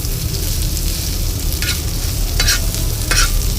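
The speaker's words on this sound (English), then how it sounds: "now what we are going to do is mix everything up nicely" Boiled potatoes are stir-fried in a pan with a steady, loud sizzle, while a utensil stirs and scrapes through them in a few short bursts.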